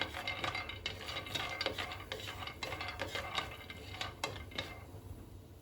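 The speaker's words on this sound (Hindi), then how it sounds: "अब हम मूंगफली को भून लेंगे, आधा कप ली है मैंने, इसे भून लेंगे।" Half a cup of peanuts dry-roasting in a pan over a medium flame, stirred with a spoon: quiet, rapid rattling and scraping clicks of nuts shifting against the metal, close and faint, with no talk.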